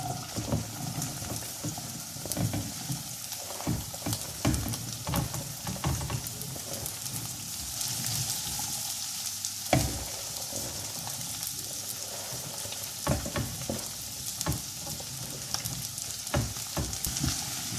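Sliced okra (bhindi) frying in half a cup of hot oil in a pan, a dense continuous sizzle with frequent crisp pops and spatters, close and steady throughout.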